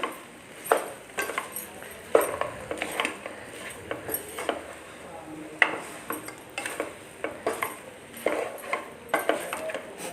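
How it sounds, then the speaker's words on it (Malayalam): Utensil scraping and clinking against a cooking pan in short irregular strokes as chicken is stirred, moderately loud and close, with a faint sizzle underneath and no talking. "അതും ഒന്ന് നന്നായിട്ട് നമുക്ക് മിക്സ് ചെയ്യാം."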